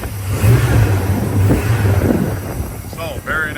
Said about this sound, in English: just a nice little rumble to it.